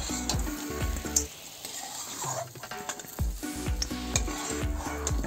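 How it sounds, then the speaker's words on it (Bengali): Shrimp heads frying in a pan until reddish, a busy sizzle broken by repeated metal spatula clinks and scrapes against the pan, close and fairly loud. "এই যে ভালো করে লাল লাল করে ভেজে নিছি।"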